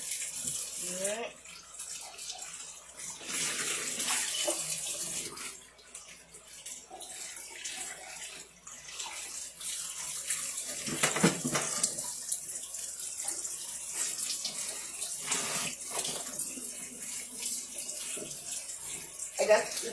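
A tap pours cold water into a sink where raw chicken soaks, a steady close rushing stream with gentle shifts in splash, and a brief voice near the end.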